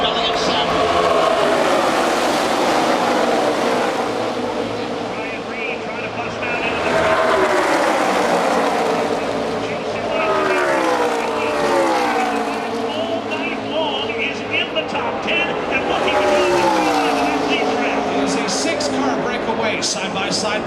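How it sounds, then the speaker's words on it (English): Stock race cars running three wide in a deep pack at Daytona during the 2015 Subway Firecracker 250, a loud continuous engine roar with rising and falling pitch as cars pass, under steady excited commentary. "at least 6 rows deep of 3 wide racing going on from 5th on back"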